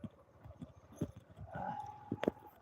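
Horse hooves clip-clopping during a night ride, a few spaced, fairly faint thuds with other rustles and a brief tonal sound in the background.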